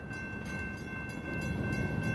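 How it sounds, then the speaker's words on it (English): A CSX freight train rolls through Wilson on the far track, a steady broadband rumble of cars and wheels that grows slightly louder over two seconds, with a faint high tone running under the noise and no voices. "We got a CSX train coming through Wilson."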